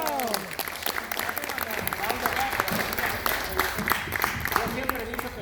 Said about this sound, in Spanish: Un aplauso fuerte para ¡Bravo!